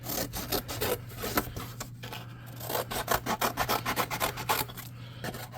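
Cardboard being cut into flat panels for a model hut, close rhythmic rasping strokes like a blade sawing back and forth, with steady repeated pulses and a faint hum beneath.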